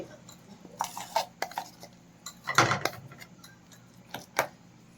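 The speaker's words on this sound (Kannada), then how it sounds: "ನೋಡಿ ನಾನು ಚಟ್ನಿನ ಒಂದು ಬೌಲ್ಗೆ ಹಾಕ್ಕೊಳ್ತಾ ಇದ್ದೀನಿ" Tamarind leaf chutney is spooned into a bowl, giving scattered light clinks and scrapes of utensil against the dish, a few sharper knocks standing out among quieter taps.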